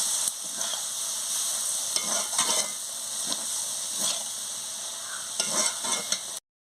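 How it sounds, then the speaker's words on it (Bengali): A spoon stirs a potato, eggplant and onion-stalk chorchori curry in a pan with water just added, scraping in uneven strokes over a continuous gentle sizzle. "দিয়ে ভালো করে নাড়িয়ে নিচ্ছি।"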